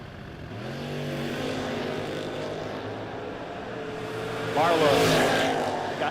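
A 1996 Mustang and a 1978 Firebird rumble in a bracket drag race, a distant engine drone rising and swelling toward the end, with an announcer's voice over it.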